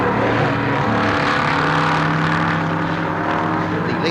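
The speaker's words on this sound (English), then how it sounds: "The leader has passed the finishing line." A racing Mini Cooper S at Warwick Farm in 1969 drones loudly and steadily close by, its engine note holding strong harmonics through the whole stretch.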